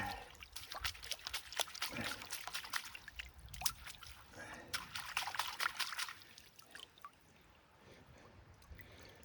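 Water splashing and trickling while miner's moss is rinsed clean out on a creek, with uneven bursts of pouring and dribbling up close that taper off into quieter flowing water.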